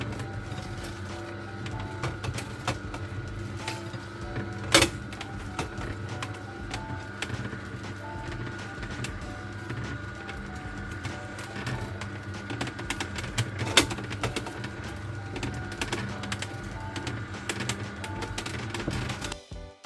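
A juicer machine runs steadily while Mexican juice is made, a continuous mechanical hum and rattle with a few sharp knocks, fairly loud and close, without talk.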